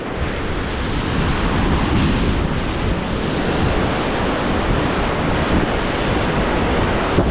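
Strong wind buffets the microphone over a rushing river in a mountain valley, a dense, loud, unbroken roar with no voices.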